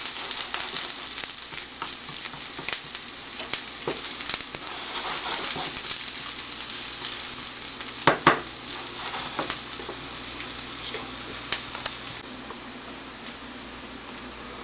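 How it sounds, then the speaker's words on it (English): Onions sauté in a pan until lightly browned, giving a close, steady hissing sizzle broken by irregular spatter pops and stirring clicks, then easing slightly near the end. "The onions have browned a bit."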